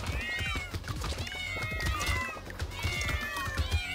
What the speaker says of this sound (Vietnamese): nhiều tiếng mèo kêu quá